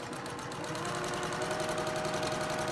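A sewing machine runs steadily through layers of quilt fabric, giving a continuous close-up motor hum with rapid needle chatter, loud and uninterrupted, with no voices.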